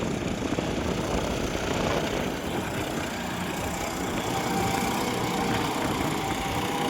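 A John Deere 5210 tractor pulls an 11-tine cultivator through hard soil in Madhya Pradesh, its diesel engine producing a steady, loud, rough drone without pause.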